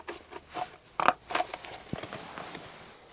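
Quiet, close crunching snips as small Victorinox Rambler scissors cut thick, hard cardboard, a few distinct bursts followed by softer scraping.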